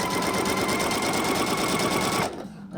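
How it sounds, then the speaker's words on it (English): Pfaff Creative Icon sewing machine stitching tricot fabric with its dual feed switched off, a steady rapid mechanical whir and needle chatter that runs loud and continuous, then stops abruptly near the end. "I want to show you the difference of how the tricot will stitch without the dual feed on"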